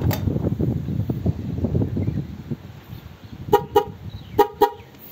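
An e-bike horn beeps four times in two quick pairs, short and loud, following a low mechanical hum.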